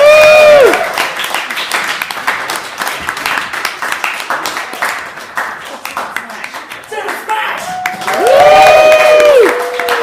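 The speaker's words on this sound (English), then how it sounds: "Round of applause again." Audience at a comedy gig applauding and cheering after a set, with dense clapping and crowd noise filling the room while a voice speaks over it, rising again to a loud burst toward the end.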